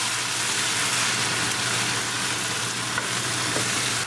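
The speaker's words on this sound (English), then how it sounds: "Now I'm going to bring diced tomatoes. And mix it well. And we're still cooking on high gas." Diced tomatoes and onion fry on high gas in a pan with a loud, dense, continuous sizzle and hiss that stays even from start to finish.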